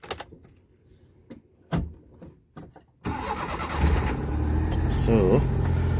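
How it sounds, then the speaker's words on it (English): An old manual car with its gear in neutral cranks and starts, then settles into a steady, close running engine after a few seconds of quieter clicks and taps. "turn on the ignition"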